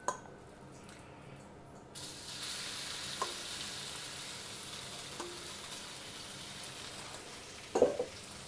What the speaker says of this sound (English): Okay, we put another couple tablespoons of oil in here. Still on high heat. I'll swirl this around. We're gonna put in half of our lamb.